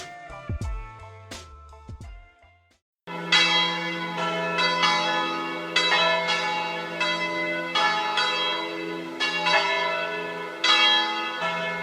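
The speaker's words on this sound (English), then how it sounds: "the bells of the local church" Church bells ring out in a steady, resonant peal, strikes overlapping and sustaining, after a brief burst of other tones and a moment of silence.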